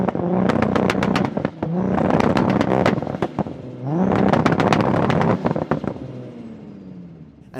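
An 800-horsepower Nissan GT-R and a 900-horsepower Toyota Supra rev hard for a sound check: repeated sharp throttle blips and rising roars in two loud bursts, with crackles and pops between revs.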